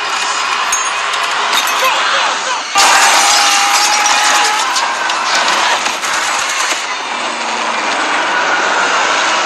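In a film scene, a jet's engines lose thrust, heard as a loud dense roar of whining turbine noise and rattling that surges sharply, then settles, with muffled cockpit voices mixed in.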